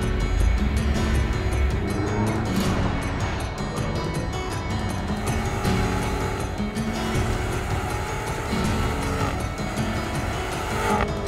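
A 2016 BMW X6 M driven hard around a race track, its engine roaring loud and close with shifting pitch as the tires squeal through the corners, and the noise stays continuous throughout.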